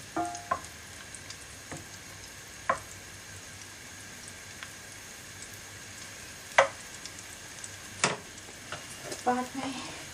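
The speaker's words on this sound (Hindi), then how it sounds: "उस पर थोड़ा भुनेंगे गार्लिक को" Chopped garlic sautés in a pan for a beet greens curry, a quiet sizzle broken by occasional sharp utensil clicks, with a person talking over it.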